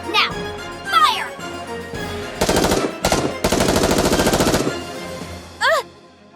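Rapid automatic gunfire in the NIKKE video game rattles in several loud bursts of differing length, mixed with electronic game effects and short synthetic chirps.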